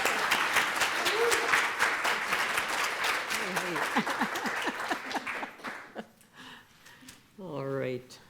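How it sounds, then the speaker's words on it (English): An audience applauds at a talk, a dense, loud wash of clapping that gradually fades out, followed by a voice speaking near the end. "So if we can give her a big round of applause"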